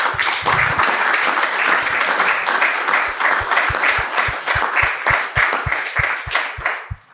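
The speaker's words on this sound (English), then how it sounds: "the audience didn't have to ask to applaud you" Sustained applause from an audience, dense and steady, with some rhythmic clapping standing out and fading at the end.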